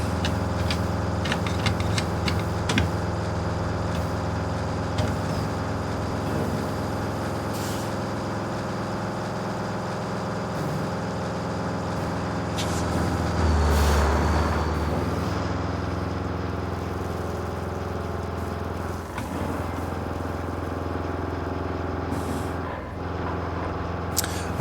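A heavy truck rumbling along a damaged road in the game Roadcraft, steady low engine drone with a swell in revs midway and faint rattles and hisses over it, no talking.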